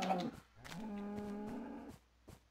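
A single sustained moo from a Minecraft cow, loud and close, held for over a second and then cut off, followed by faint game clicks.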